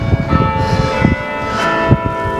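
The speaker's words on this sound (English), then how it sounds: "There's the bells going," Church bells peal over the harbour town of Cobh, County Cork, on a morning, a dense, continuous clang of overlapping strikes with steady resonant ringing, fairly loud and close, no voices.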